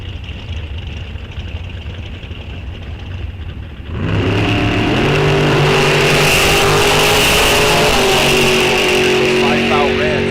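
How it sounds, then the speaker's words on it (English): Small block Chevy powered dragsters launch at a bracket drag race at Rock Falls Raceway, a loud, close engine roar that bursts in after a quieter stretch of crowd and track ambience and holds as the cars pull away, with an announcer talking throughout. "Small block Chevy powered dragster,"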